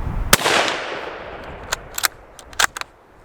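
A single sharp, loud rifle shot from a Ruger American Scout fired offhand at a 100-yard head-sized silhouette target, ringing out with a long fading echo, followed by a few scattered faint clicks and taps.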